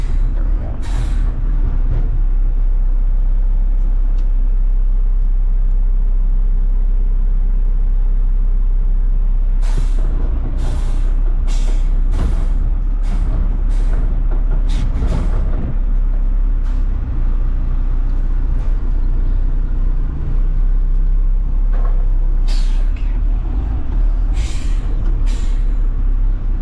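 A front load garbage truck idles with a steady low engine rumble, punctuated by repeated sharp hisses of its air brake releasing in clusters, close and loud, with no talking.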